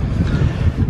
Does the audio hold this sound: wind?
yes